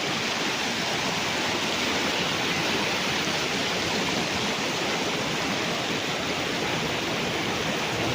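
A river flows past a riverside farm lot in Liliw, Laguna, a continuous broad rushing wash of water that stays steady and fairly loud throughout, with no voices.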